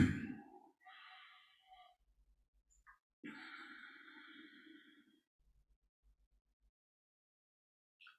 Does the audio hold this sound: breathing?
yes